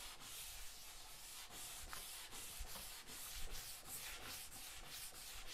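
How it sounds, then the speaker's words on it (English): Wet sanding along the grain of the wood finish on a Victrola record cabinet, a soft, steady rhythmic rubbing of repeated strokes, close and quiet with no talk. "I'm wet sanding it like a car. In the direction of the grain."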